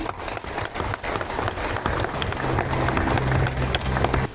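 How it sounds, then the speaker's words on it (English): Scattered applause from an audience at a public event on organic farming, with sharp individual claps starting unevenly and building into a denser, steadier round, plus some low rumbling underneath. "Applause, please."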